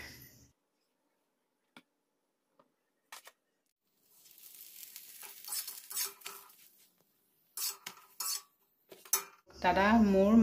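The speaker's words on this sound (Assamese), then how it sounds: "সন্ধিয়া যে চাহ খাইছিলোঁ সেইবিলাক বাচনো ধুম" Dishes and cutlery from evening tea clatter and clink at a sink in short scattered bursts with pauses between, and running water seems to come in near the end.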